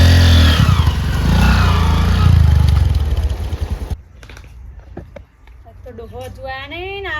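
A motorcycle engine roars loudly up close, then cuts off abruptly midway, leaving quieter background sounds and voices.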